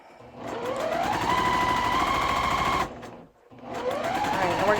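A sewing machine runs steadily while stitching quilt block rows at a scant quarter-inch seam, a close, fast mechanical whir that pauses briefly and then starts up again.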